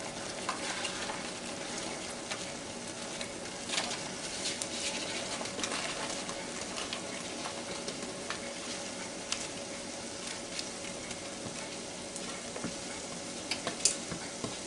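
Chopped celery and onion sizzle in a copper pan with stove-top stuffing, a steady close crackle with scattered pops and light stirring, no talking.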